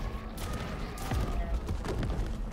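Gunfire in a survival horror video game comes as dense, rapid shots and thuds packed into a steady, loud burst of noise with no clear gaps.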